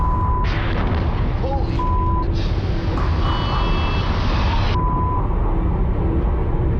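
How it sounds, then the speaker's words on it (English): Large explosion blast with shockwave in a TV documentary, a deep sustained rumbling roar mixed with broadband noise and steady tonal beeps, loud and continuous across the whole stretch. "One blast creates a powerful shockwave, which can be seen rippling through the atmosphere."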